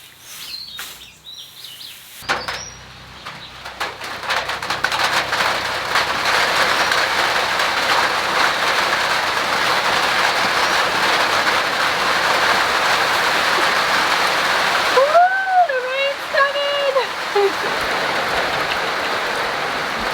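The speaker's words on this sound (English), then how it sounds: "Well, the rain just hit. It's starting to come down pretty heavy now" Heavy rain pours down at a building site for an A-frame house, a steady loud hiss on surfaces after a short quieter opening. Birds chirp briefly over the rain toward the end.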